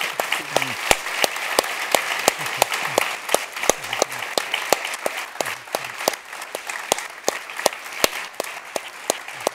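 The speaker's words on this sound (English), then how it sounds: "So I think they merit an extra final applause from you." An audience at a Futurium science talk gives the guests applause, a steady crowd of clapping punctuated by sharp, loud nearby claps, with a voice speaking over it.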